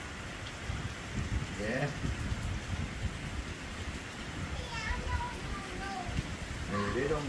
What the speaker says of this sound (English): getting plenty rain